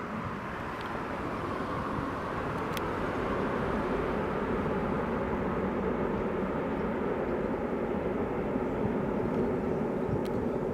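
An EasyJet airliner from Belfast moves along at Leeds Bradford Airport, giving off a continuous low engine drone and rumble of steady, moderate loudness, with no talk over it.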